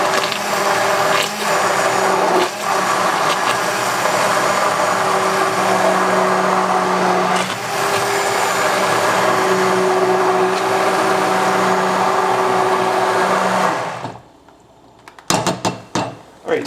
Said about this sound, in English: This is a wand blender.